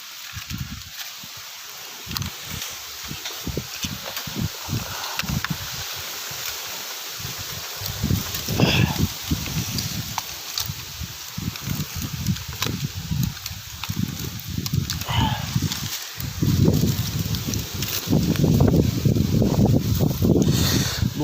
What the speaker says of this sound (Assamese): বতাহ বহুত মাৰি আছে না